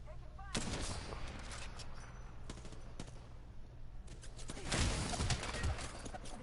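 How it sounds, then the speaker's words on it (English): Gunfire rattles in Apex Legends, bursts of rapid shots over a steady game background, with heavier volleys late in the stretch; no speech from the player. "I'm taking shots."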